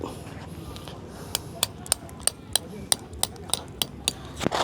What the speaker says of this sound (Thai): นี่เราตอกสมอก่อนเลยอันดับแรก